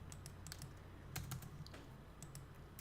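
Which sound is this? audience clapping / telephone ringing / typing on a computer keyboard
typing on a computer keyboard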